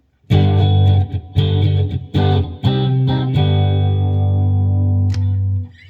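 A 1989 Fender HM Strat electric guitar plays crunchy distorted chords, loud and close: several short choppy strums, then a long ringing chord that sustains and fades, with a brief scrape before the end.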